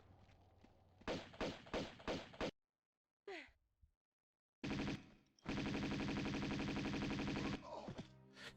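Rapid bursts of pistol fire from a video game, a few quick volleys early, then a long sustained stretch of continuous shooting after a short silent gap, loud and close.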